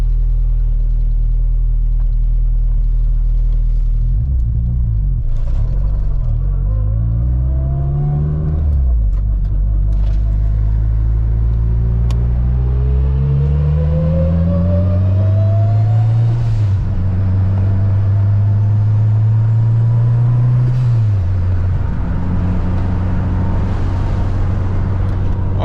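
A loud 600-horsepower turbocharged Honda Civic engine idles, then revs up repeatedly through climbing, whining gears, close by and powerful, with a turbo whistle rising over the roar, on a cold day.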